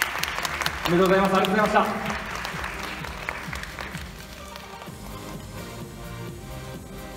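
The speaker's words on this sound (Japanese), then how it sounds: "もう一度大きな拍手を送りください。" Audience clapping for the sports model champion at the NPCJ Japan Classic 2020 bodybuilding event in a hall, loud and dense at first and then thinning, while a host speaks over it.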